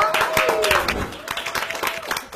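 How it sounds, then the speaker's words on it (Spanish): Brief burst of close applause and hand clapping from a few people greeting a guest at a fan chat interview, with voices mixed in. "Un aplauso."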